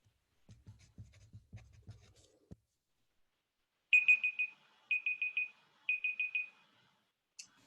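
A small timer beeps in three quick bursts of rapid electronic chirps, close and clear, after a few seconds of soft scratching.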